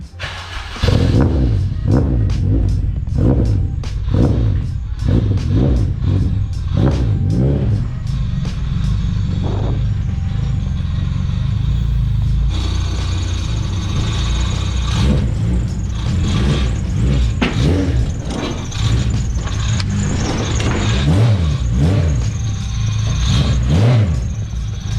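A Honda RSX with a K24 engine in DC5 form revs hard on a dyno, a loud close engine note climbing through repeated pulls and gear changes, then holding a sustained high-rpm roar.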